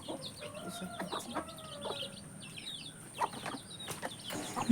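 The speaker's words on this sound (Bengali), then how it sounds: "মুরগিকে খাবার দেওয়া হয়ে গিয়েছে, খাচ্ছে" Chickens cluck steadily in their coop after being given feed on a rainy, muddy morning, with short overlapping calls and faint chirps repeating throughout at close range and no talk.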